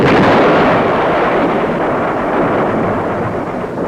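Heavy, deep rumbling blast from an F-100 jet's four-can napalm bomb drop that rolls on and slowly fades, a loud sustained boom like a large explosion with a long echoing tail.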